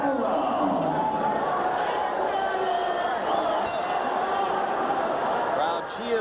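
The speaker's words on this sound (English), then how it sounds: "Crowd cheers for the 12th round" A boxing arena crowd keeps up a steady, loud roar of cheering and shouting, with babbling voices blended into the noise throughout.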